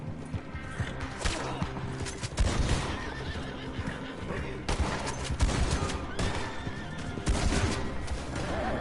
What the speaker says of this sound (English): We stole the horse and away we run.